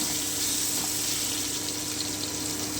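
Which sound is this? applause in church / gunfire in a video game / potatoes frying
potatoes frying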